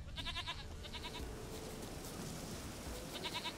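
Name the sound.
goat bleating, from the video game The Witcher 3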